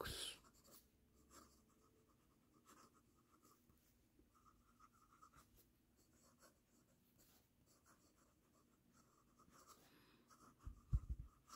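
A vintage Moore 94a fountain pen writing a sample line on paper, giving faint soft scratching strokes in short bursts, quiet and close, with a few louder bumps near the end and no talking.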